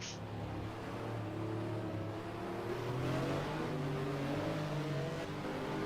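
A race car in an FIA GT racing game on the Budapest circuit in wet conditions revs continuously, its engine note climbing and sweeping through gears as the tyres are worked hard, loud and steady with no talk.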